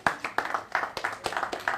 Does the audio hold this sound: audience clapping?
yes